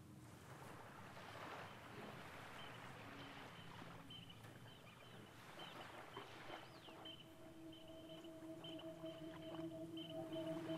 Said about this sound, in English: Combining field recordings of beaches in Puerto Rico, along with undulating gestures in strings reminiscent of the sounds of waves.